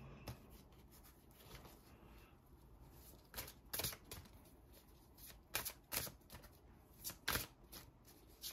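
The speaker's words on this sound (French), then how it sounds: "Alors, je mélange mes cartes." Playing cards shuffled by hand up close, soft riffling and sliding with sharp bursts of fluttering snaps spaced a second or so apart, quiet overall and without talk.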